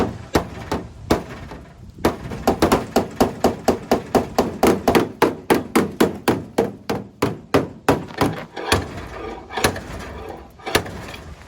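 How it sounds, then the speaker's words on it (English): Rapid metallic hammer blows strike a car door panel in a steady rhythm, hammering out creases, dozens of close, loud whacks with brief pauses between bursts. "I'm gonna see if I can hammer out some creases"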